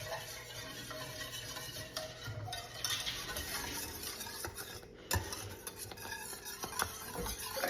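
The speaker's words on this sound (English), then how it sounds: "you're going to stir it over medium heat until it starts to simmer." A spoon stirs pudding mixture steadily in a pot over medium heat, scraping and swishing up close without a break, with a faint sizzle underneath.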